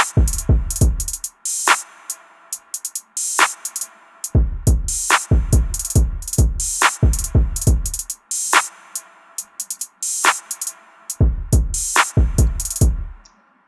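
Punchy trap drum beat made in Reason 11, with booming low kicks, sharp snappy claps and rapid hi-hat ticks in a choppy, syncopated pattern.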